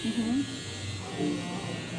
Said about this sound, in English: you want it with the shaver or only shaver? Yeah, you can do the shaver